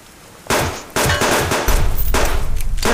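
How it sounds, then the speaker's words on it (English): Handgun shots fired in the survival game Subsistence: several loud, sharp reports with a short crackling rattle between them, close by and with no talking over them. "It's not dawn, but it is a pistol. Well, you know, it's a handgun."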